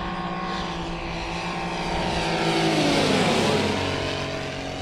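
A radio-controlled scale warbird model airplane, a Hangar 9 Ki-43 or OV-10 Bronco at a warbird meeting in Oberhausen, drones steadily overhead with a rising engine note as it passes and banks, loud and continuous with no talk.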